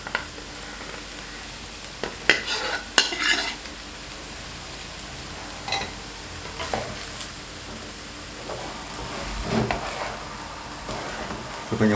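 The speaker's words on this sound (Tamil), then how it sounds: "நம்ம அப்படியே கலக்கிறோம்." Egg fried rice is stirred in a hot pan over a high flame, with an ongoing sizzle and intermittent sharp scraping and clattering stir strokes, louder in bursts near the start and toward the end.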